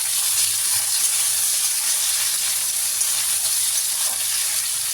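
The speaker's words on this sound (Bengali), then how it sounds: "নুন দিয়ে একটু ভাজা করব, এগুলো ভাজা হোক" Potatoes, flat beans and radish fry together in oil seasoned with five-spice, giving a loud, steady close sizzle and hiss that runs without a break, with no voices over it.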